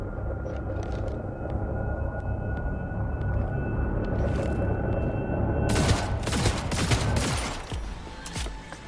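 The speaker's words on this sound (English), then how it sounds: "Heard shots." Gunfire in Cyberpunk 2077 comes as sustained bursts over a rumbling game soundscape, with sharp, loud shots clustering near the end before dying away.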